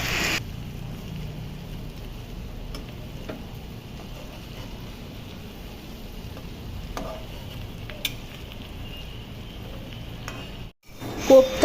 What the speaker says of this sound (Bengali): কড়াইয়ে প্রয়োজন মতো তেল নিয়ে গরম হলে এক এক করে কোপ্তাগুলি ছেড়ে দিচ্ছি।